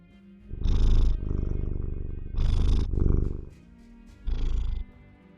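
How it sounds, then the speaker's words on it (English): A 16-year-old cat purrs loudly and steadily close by, with three stronger swells of purring over a continuous low rumble, and no talking. "Proper purring. Proper purring away"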